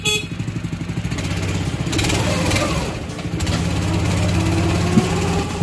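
A small rail scooter engine chugs steadily and loudly while running along a railway track in late-autumn countryside, a constant rhythmic putter with some background noise.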